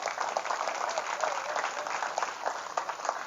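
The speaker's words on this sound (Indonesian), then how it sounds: "berikan tepuk tangan buat orang-orang hebat ini" Seminar audience of parents at a modern Islamic boarding school applauds steadily, a dense, even wash of many hands clapping at moderate loudness throughout, with no single voice standing out.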